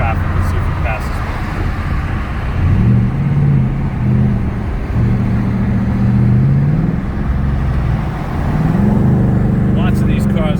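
A blue car passes on a road amid light traffic, its engine a steady low drone that swells and fades over about ten seconds.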